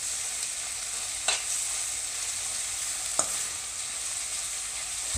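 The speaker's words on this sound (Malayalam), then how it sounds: "ഇതിനകത്തേക്ക് പച്ചമുളക് ഇടാം, അതിൻ്റെ പിന്നാലെ ഇഞ്ചി ഇടാം." Green chillies and ginger sauté in hot oil in a pan for a Kerala-style fish pollichathu: a steady, close sizzle runs throughout, broken by two sharp clicks of a utensil stirring against the pan.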